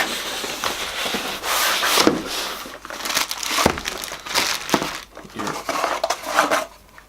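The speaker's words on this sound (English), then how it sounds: "it comes in the plain HP cardboard packaging" Cardboard packaging of an HP Pavilion 14-inch laptop being opened and handled, giving close, loud crinkling and rustling in uneven bursts with brief thumps throughout.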